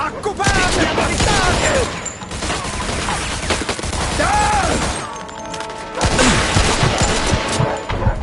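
Heavy gunfire in a Mafia II shootout, dense bursts of shots and crashing impacts that surge, ease briefly and return, loud and close, with shouted voices mixed in.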